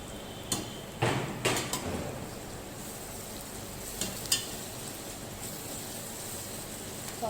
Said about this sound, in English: I'm adding ginger garlic paste.